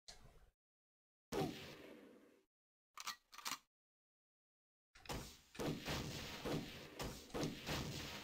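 Single gunshot in the Ecks vs. Sever video game, with short bursts of game sound broken by silent gaps, followed by a longer stretch of repeated thumping blasts.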